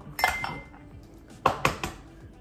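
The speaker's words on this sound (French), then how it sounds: "On va rajouter les 2 œufs directement." Eggs cracked against a bowl for banana fritter batter, a few sharp clicks and knocks in two quick clusters, close and clear, with no talk.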